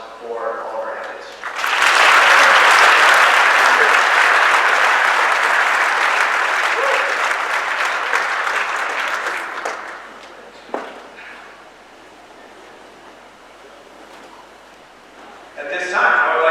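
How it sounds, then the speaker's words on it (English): An audience at the 2022 ESSLY Awards ceremony applauds athletes, with loud, sustained clapping for about eight seconds that then thins out and fades into a quiet room. "please give a round of applause for all of our athletes"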